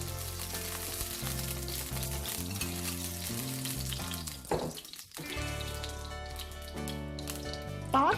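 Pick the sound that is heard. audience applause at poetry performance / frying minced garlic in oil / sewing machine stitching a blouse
frying minced garlic in oil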